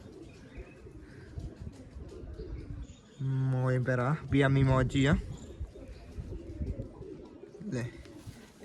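Pigeons coo softly in the background while someone speaks loudly nearby, his voice dominating the middle of the stretch, with the low bird calls continuing around it.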